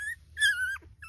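Young puppies being held whimper in high, thin whines, three short cries in quick succession, close and clear with no talking.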